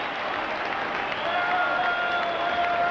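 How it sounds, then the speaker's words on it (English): Rangers fans at the 1990–91 Scottish League Cup final against Celtic send up a huge, sustained roar mixed with applause, a dense, steady crowd wash that holds loud throughout. "A huge cheer going up from the Rangers fans."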